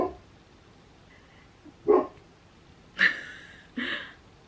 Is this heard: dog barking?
yes